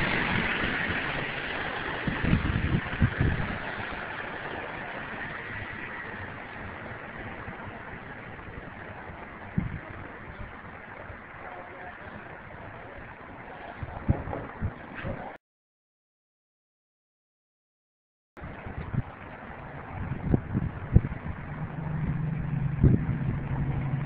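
A scooter engine converted to run on hydroxy (hydrogen) gas idles with a low, steady hum and occasional louder knocks. The sound cuts out briefly to silence, then resumes at a similar level.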